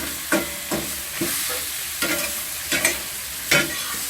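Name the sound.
chicken wings with garlic and black beans frying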